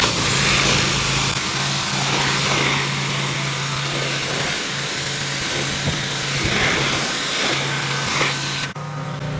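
Pressure washer rinsing a wood sign, a steady loud motor whine with a hissing water spray that stays constant, then cuts off abruptly near the end; no talk.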